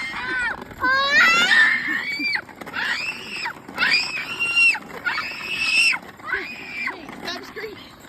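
A baby screams in a string of shrill, piercing bursts, about six separate cries with short gaps between them, loud and close, with faint voices around.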